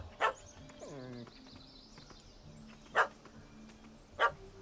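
A dog barks sharply three times, spaced apart, over a quiet background with a brief descending whine near the start, in the video game The Witcher 3: Hearts of Stone.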